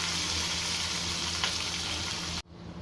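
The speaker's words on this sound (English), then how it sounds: "Now we will fry them until they are golden brown." Sliced onions fry in hot oil in a pan while cooking a Bengali rice and fish-head dish, a loud, steady hiss and crackle close up that cuts off abruptly near the end.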